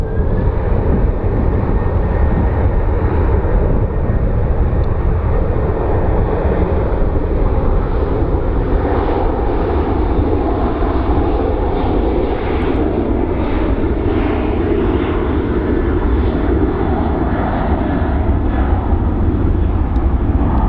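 A jet airliner at Phoenix Sky Harbor airport, its engines a loud, continuous roar with a deep rumble and a steady high whine, close by and unbroken.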